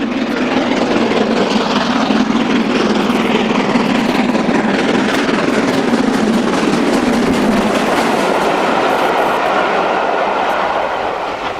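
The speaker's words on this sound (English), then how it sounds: "48151 passes Cove on the West Coast Main Line while working empty stock between Carnforth and Inverness in March" British steam locomotive 48151 hauling empty stock past Cove on the West Coast Main Line, a loud and continuous rumble and roar of the passing train with rapid rail clatter and no let-up across the whole stretch.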